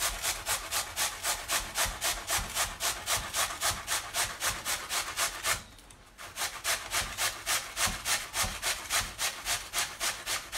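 A potato is grated by hand, giving a fast, regular rasping stroke repeated about three times a second, close and loud, with a short pause midway and no talking.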